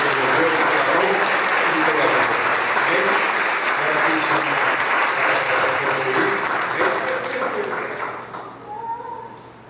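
A church congregation at a Portuguese-language worship service applauds in a loud, sustained wave of clapping with voices mixed in, tapering off toward the end.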